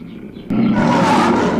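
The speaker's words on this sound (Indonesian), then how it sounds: "Betul, ada singa yang datang" Lion roaring from a children's Sunday school story about a lion approaching a flock of sheep: a faint lead-in, then a loud, sustained, rough roar that swells and holds, with no voices.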